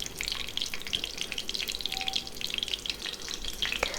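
Whole garam masala spices and a bay leaf sautéing in oil for an egg salna, a soft continuous sizzle with light crackles and a brief scrape of stirring, fairly quiet and close.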